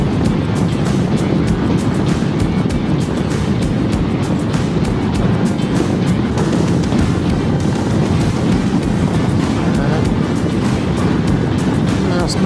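Steady, loud wind roar buffets the microphone while riding a Honda CRF1100 Africa Twin Adventure motorcycle on village roads in Dzūkija, with a dense low rumble that runs unbroken throughout.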